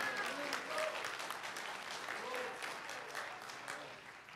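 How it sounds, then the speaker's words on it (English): A church congregation clapping their hands, a dense, lively burst of applause from many people that fills the room and tapers slightly toward the end. "give the Lord a hand clap."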